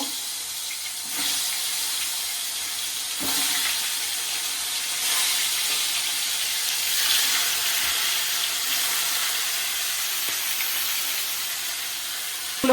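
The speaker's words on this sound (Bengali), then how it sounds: "তেল গরম হয়ে গেছে, মাছগুলো আমি ছেড়ে নেব।" Whole sole fish, rubbed with salt and turmeric, sizzle in hot oil in a pan, making a steady, fairly close broadband hiss that runs unbroken throughout with no voices.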